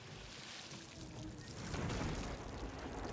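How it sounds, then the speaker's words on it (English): Heavy rain falls in a video game trailer, a dense broadband wash of water that grows louder and fuller partway through and carries on steadily to the end. "Look at that, some damn good looking rain!"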